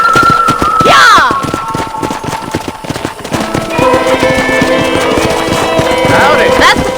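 Rhythmic hoofbeats of a horse running close by in Red Dead Redemption, with a whinny and other game sounds layered over steady background music.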